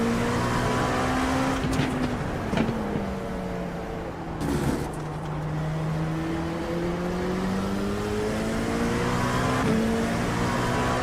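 Continuous engine drone of a race car lapping IMSA Daytona in the iRacing simulator, held at a steady moderate pitch with gear shifts and gentle rises and dips, heard close and alone.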